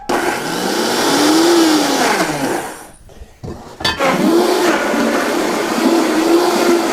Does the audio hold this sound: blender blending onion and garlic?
yes